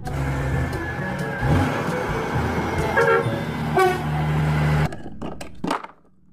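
Toy sand truck sounding its horn amid a busy jumble of toy train and vehicle noises, with short bright honks near and loud before the sounds cut off into quieter clicks.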